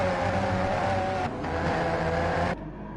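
Race cars in the GT Sport video game, on the Spa circuit, rev and drone loudly and continuously, the engine tone shifting briefly before cutting to a quieter hum near the end.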